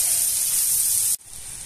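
Onion and garlic sizzle in a pan with a steady, bright hiss that cuts off abruptly just past the middle, leaving a quieter, lower hiss.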